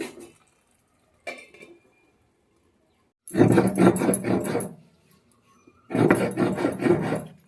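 A spoon stirs a potato and poppy seed curry with ridge gourd in a cooking pot. It gives two long, loud bursts of scraping and rubbing, with a few short quieter scrapes and near-silence between them.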